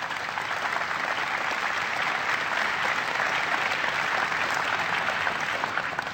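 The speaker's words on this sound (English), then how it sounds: "Please give them a big round of applause." A large audience claps steadily at an outdoor energy policy event at Andrews Air Force Base, a dense, even wash of applause that holds for the whole stretch without pause.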